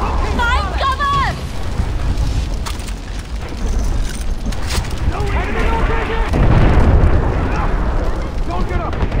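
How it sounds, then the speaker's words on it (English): Artillery shells land in Far Cry 4 as heavy explosions that rumble continuously, with a bigger blast partway through. Shouting voices run over the booms. "artillery rounds incoming. Take cover."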